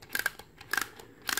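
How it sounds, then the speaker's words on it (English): UFT battle top being wound up, three short bursts of sharp ratcheting clicks spaced about half a second apart, close and crisp against a quiet background. "you spin it until you hear a click"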